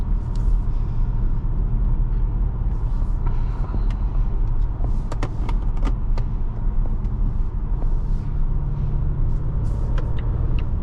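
A 2024 Volvo S60 T8 Recharge Ultimate cruising at about 47 mph gives a steady, loud road and tyre rumble inside the cabin, with occasional light clicks and rattles and no talking.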